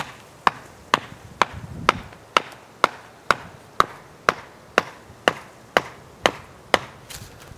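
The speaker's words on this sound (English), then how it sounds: "when we put our stake in the ground for our tent here, we'll be pounding on top of this" Repeated strikes pound a tent stake into the ground beside a wall tent, about fifteen sharp, evenly spaced blows, loud and close, with no talking.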